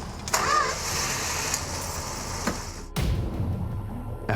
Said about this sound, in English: A Rambler is coming down the driveway.